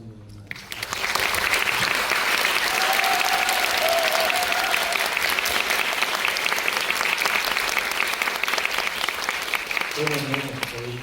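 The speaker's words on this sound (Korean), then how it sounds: "이 무용수 분들에게 박수 한 번만." An audience applauds dancers after a contemporary dance performance and talk session, a loud, dense, steady clapping that swells in quickly and holds, with voices emerging as it fades at the end.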